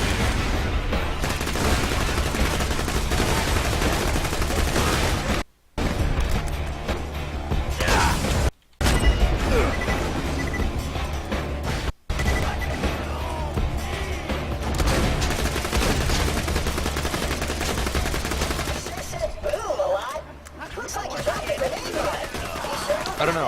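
Pistol fire in the video game Borderlands rattles in rapid, SMG-like bursts over most of the stretch, loud and close, broken by a few short silent gaps, with a voice talking over parts of it.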